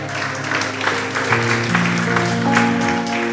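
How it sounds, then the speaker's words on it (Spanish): A church congregation claps during a Spanish-language sermon. The scattered, moderate applause rolls over sustained keyboard chords playing underneath. "Dale un aplauso al Señor."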